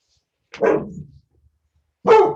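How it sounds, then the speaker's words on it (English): A dog barks in two bursts, one short volley early and another near the end, fairly close and clear against an otherwise silent background with no talk. "Sorry, a dog in the background."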